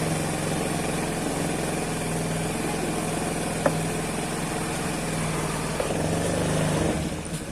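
A Honda Beat motorcycle engine runs steadily at a constant idle-like hum with a few small clicks, loud and close, holding an even drone throughout with no speech.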